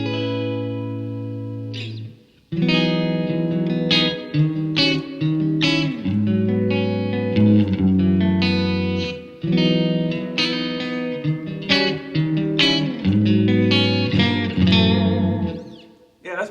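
Clean electric guitar plays a sequence of chords and notes with a distinct reverb tail, ringing clearly after a short pause at the start.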